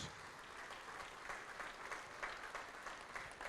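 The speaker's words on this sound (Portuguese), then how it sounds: "Vamos aplaudir mais ao nome do Senhor." A church congregation claps continuously in praise, with a fairly distant crowd applause keeping an uneven rhythm and a few louder bursts.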